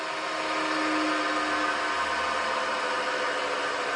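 A bench grinder runs steadily with a bright, even whine and hum while a woodturning skew chisel is sharpened, continuous and close with no speech.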